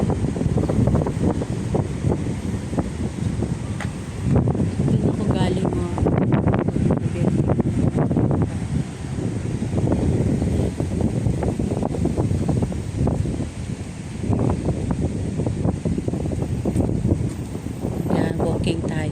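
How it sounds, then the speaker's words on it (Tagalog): Steady gusting seaside wind buffets the microphone outdoors, with voices talking intermittently underneath the rumble. "Mahangin o mahangin."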